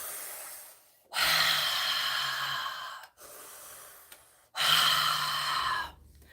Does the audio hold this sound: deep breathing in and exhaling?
yes